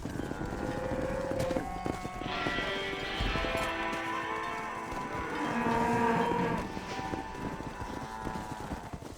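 A herd of cattle moos in the Western video game Red Dead Redemption, with several overlapping, drawn-out lowing calls over steady outdoor ambience and faint hoof clip-clops, no talk.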